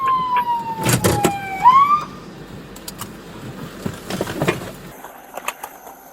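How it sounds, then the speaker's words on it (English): Police car siren wailing loud and close on a traffic stop, with a long sweeping tone that rises sharply mid-way and breaks into short yelps. Engine and road rumble run underneath, with scattered bumps and clatter afterward. "With the lights and sirens on?"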